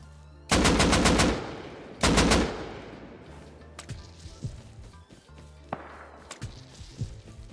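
AK rifle fire in the video game Rust: two loud rapid bursts of automatic shots close together near the start, followed by scattered quieter single cracks and clatters.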